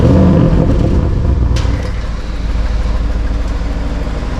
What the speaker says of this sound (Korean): 차를 잠깐 앞으로 빼면서 엔진 소리 한번 들려드릴게요.